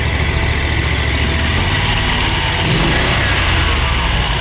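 A 30-horsepower outboard motor drives a swamp boat across rough ground, its steady low engine drone loud and continuous throughout.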